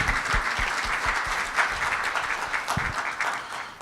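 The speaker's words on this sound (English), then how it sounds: "Give them a big round of applause for their leadership today." Audience at a county regional meeting on economic development applauds county leaders, dense steady clapping filling the room, with a few louder nearby claps standing out.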